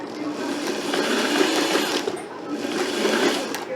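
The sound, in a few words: sewing machine zigzag stitching skirt to t-shirt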